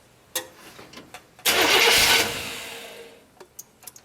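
A 1959 GMC truck engine cranks with a few faint clicks, then catches in a loud roaring burst that settles over a couple of seconds into a softer idle, with small knocks afterward.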